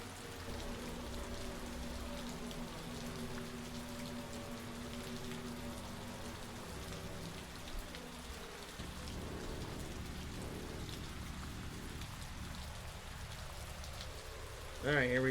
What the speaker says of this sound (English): you can see what it looks like when it's raining.